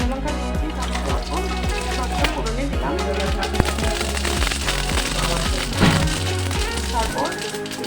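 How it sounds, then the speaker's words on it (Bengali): A dried red chilli sizzles in a little hot oil in a wok, a dense, continuous crackle and spatter close by, with a voice talking over it. "এখন একটা কড়াই বসিয়ে দিয়েছি, হালকা অল্প তেল দিলাম। তার মধ্যে অল্প একটা শুকনো লঙ্কা দিয়েছি"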